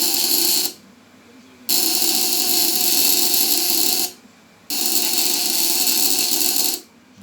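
A homemade contact-breaker electric fence energizer running on 12 volts gives off a harsh, steady buzz in bursts of about two seconds. Each burst is cut by a short quiet gap, in an even on-off rhythm close by.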